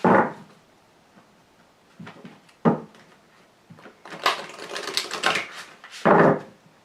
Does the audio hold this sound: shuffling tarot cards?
yes